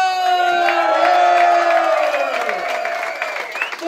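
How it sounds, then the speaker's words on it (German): An audience at an Austrian-themed afternoon gathering cheers and applauds, loud whoops and shouted voices rising over scattered clapping, close and lively before tapering off. "Dames en heren, extra applaus voor Stefan!"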